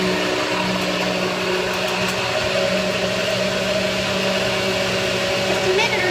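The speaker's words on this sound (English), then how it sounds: "I screw on the little blender piece, and I'm going to have lunch to go here." A NutriBlast blender whirs continuously while blending a gem-infused smoothie, a steady loud motor hum with a constant pitch close by, running without pause.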